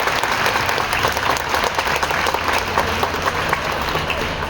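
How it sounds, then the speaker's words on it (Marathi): An audience at a college Shiv Jayanti event claps steadily, a dense, even round of applause that holds throughout without a break. "त्याच्याबद्दल त्यांचा एकदा टाळ्या वाजून आपण सगळ्यांनी करूया"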